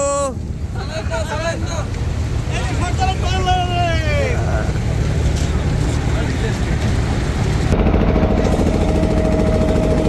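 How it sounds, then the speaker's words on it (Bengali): A trawler's engine runs steadily on a river crossing in the Sundarbans, a loud, continuous low drone with wind buffeting the microphone, while people talk over it throughout. "আমরা পার হয়ে যাচ্ছি সর্দারের ট্রলারে"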